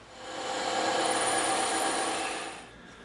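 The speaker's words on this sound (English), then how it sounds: "We're going to cut these square edges off real quick on the bandsaw." A bandsaw cuts through EVA foam, a loud steady buzzing rasp that swells in, holds, then tapers off as the cut ends.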